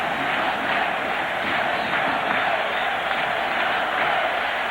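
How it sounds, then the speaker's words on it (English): A large baseball stadium crowd at a 2000 playoff game between the Yankees and Oakland roars in a continuous, distant wash of cheering and shouting that stays loud and unbroken throughout. "Boy, this crowd now is really rocking and rolling, aren't they?"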